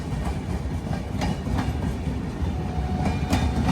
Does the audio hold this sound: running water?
no